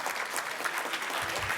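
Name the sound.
association members applauding the mayor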